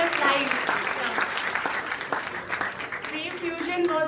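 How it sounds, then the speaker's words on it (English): An audience applauds prize winners at an IT symposium award ceremony, with continuous clapping throughout and a voice talking over it. "We can just have a good round of applause for them"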